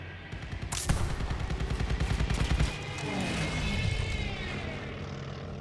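Enemy aircraft roaring in on an attack pass in Call of Duty: Vanguard, a loud propeller drone swelling with rattling gunfire bursts early on, then a lower engine tone sweeping past and fading slightly.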